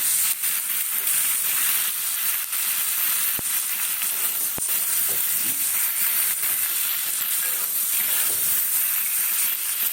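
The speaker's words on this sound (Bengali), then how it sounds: "মশলাটা দিয়ে এই হালকা আঁচে কষিয়ে নেবো" Spices for potato curry (aloo dum) fry in hot oil over low heat, giving a steady loud sizzle and hiss with a few sharp clicks from stirring, without talk.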